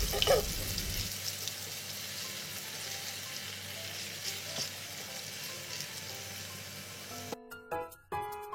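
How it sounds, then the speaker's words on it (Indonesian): Scored sausages frying in a pan give a steady, close sizzle and crackle that runs on without a break. Near the end a few brief clatters and knocks break through. "Lalu goreng sosis yang sudah dikerat-kerat sampai keratannya merekah."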